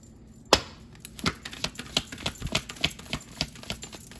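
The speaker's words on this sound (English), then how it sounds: "These cards are hard, so they're a little bit trickier to shuffle when you lose control of them." Hard tarot cards being shuffled, an irregular run of sharp clicks and slaps, one loud snap near the start followed by quicker, softer taps, close to the microphone and with no talk.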